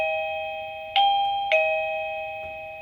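An AVANTEK D-3B waterproof wireless doorbell receiver chimes over a steady electronic tone, with two bright ding strikes close together and a fainter third one trailing off, with no voices.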